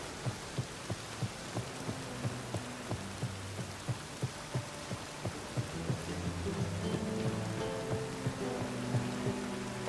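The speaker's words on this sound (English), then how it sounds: "It's raining" Rain falling in The Witcher 3, a steady close hiss of drops with a thudding heartbeat-like pulse and low rumbles beneath, no voices.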